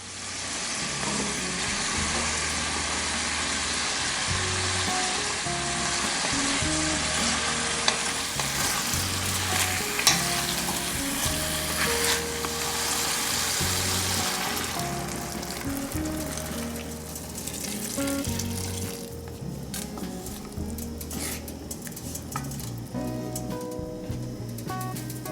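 Burdock and lotus root with other vegetables sizzle and fry in a pan, a continuous close hiss with steady stirring and scraping throughout, easing slightly toward the end.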